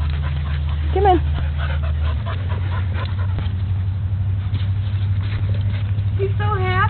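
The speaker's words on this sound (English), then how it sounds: "Murray, come here, puppy" Puppy dog heard indoors through a low steady hum, giving a few short high whimpers and yelps near the start and end while people talk nearby.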